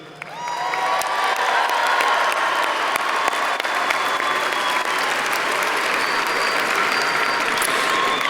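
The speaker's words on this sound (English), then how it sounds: "Please join me in a round of applause for Ms. Stephanie Charette and the Del Valle High School Orchestra." A large commencement crowd in El Paso breaks into sustained applause that swells within the first second and holds steady, dense and loud, with scattered cheers and whoops mixed in.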